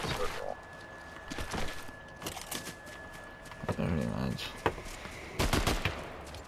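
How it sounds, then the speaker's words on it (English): Video game gunfire crackles in scattered bursts and single loud cracks, some sharp and near, while players talk over the shooting. "Who the fuck's shooting at me?"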